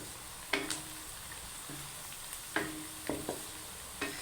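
Aloo kofta mixture fries in a pan until light brown, a steady low sizzle broken by a few sharp scrapes and clinks of a spoon stirring against the pan, close and unaccompanied.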